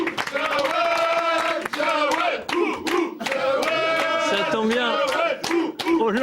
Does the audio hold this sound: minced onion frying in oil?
no